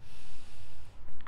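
A long, deep exhale through the nose during a home Pilates cooldown, a steady breathy rush that fades briefly before a second push of air, close to the microphone.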